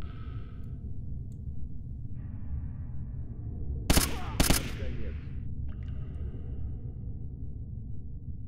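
Enemy gunfire in S.T.A.L.K.E.R. Anomaly: two short, loud bursts of shots close together mid-clip over a steady low ambient rumble, with quieter game noise around them.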